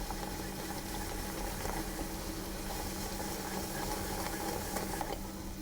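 A caramel mixture bubbling in a pan on the stove, a soft, steady, faint simmer with light pops and no talking.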